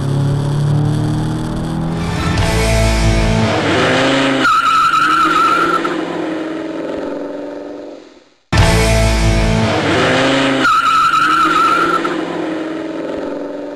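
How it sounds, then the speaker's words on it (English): Toyota MR2 race cars at Brands Hatch during a championship race, with loud engines and a long tire squeal as one car makes contact and spins, then a sudden cut and the same squealing skid repeated. "a little bit of contact, and it's just enough to turn John Wilson around"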